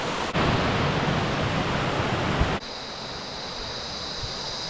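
Waterfall in the Sinharaja rainforest of Sri Lanka, a loud, steady broadband rush of falling water that drops abruptly to a softer, more distant roar partway through, with no voices.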